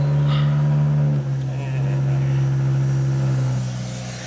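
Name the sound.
straight piped MK5 2.5L Jetta engine exhaust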